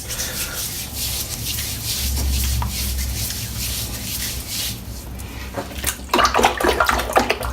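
Wet fingers rubbing over a shaved scalp while preparing for a head shave, giving soft continuous scrubbing and light water swishing, with brighter splashy dabs near the end; close and fairly quiet, no talking.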